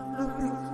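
A housefly's buzz hums close and steady for under a second as a cartoon sound effect in a deserted store, a thin droning whine with slight wavering.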